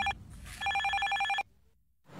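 A telephone rings in two sharp electronic bursts, the second longer, followed by a short quiet pause.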